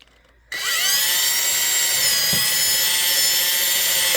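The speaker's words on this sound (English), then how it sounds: "where that drill bit's going to go when you drill that hole" After a brief quiet moment, a power drill starts up and drills steadily into a thin metal can, a loud, close, sustained high whine.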